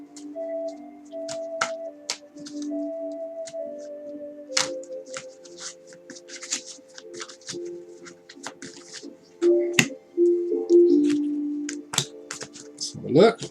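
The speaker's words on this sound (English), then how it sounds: "Let's shuffle the cards." Tarot cards are shuffled by hand during a reading, giving quick papery riffles and soft clicks in short bursts over a faint sustained melodic tone.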